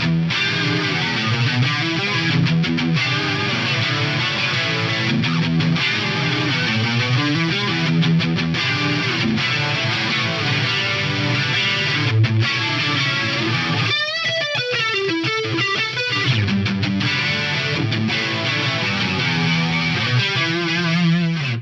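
Distorted electric guitar run through an Axe-Fx III recreation of the Boss Dimension chorus, dense driven chords and riffs played loud and continuous with a brief sliding, bending passage midway, nothing else heard.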